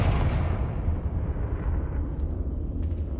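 A Confringo spell explosion in Hogwarts Legacy, heard as a loud, rumbling blast that fills the low end and slowly dies away over a few seconds.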